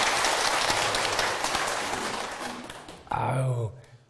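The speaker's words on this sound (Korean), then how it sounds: "네, 박수 한번 부탁드릴까요?" Applause from an audience at a retirement talk honoring a man after 33 years of military service, a dense wash of clapping that fades over about three seconds, followed by a brief burst of voice.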